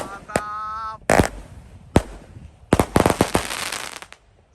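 Roman candle fireworks, a 64-shot box and a 1.5-inch special, set off at night for the eve of Eid al-Adha: a whistling rise, then a few sharp separate bangs and a fast closing run of crackling pops.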